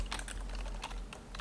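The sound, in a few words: typing code on a computer keyboard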